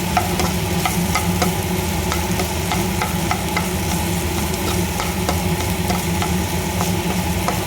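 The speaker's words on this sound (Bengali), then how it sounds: "শাকটা আরেকটু ভাজা ভাজা হবে।" Red amaranth greens fry in a pan with garlic, lentil bori and poppy seed, making a loud, continuous close-up sizzle broken by regular clicks and scrapes of stirring, with no talking.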